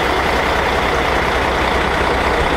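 A race hauler truck rig idles while being fueled, its heavy diesel engine giving a steady, loud low rumble with a regular pulsing throb throughout.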